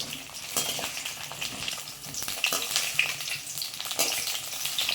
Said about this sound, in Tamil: அதை வந்து இந்த எண்ணெயில் நம்ம இப்போ போட்டு வதக்கி எடுத்துக்கணும்.